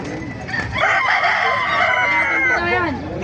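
A Hennie gamecock rooster lets out a single loud, close crow that rises and trails off, with faint voices in the background.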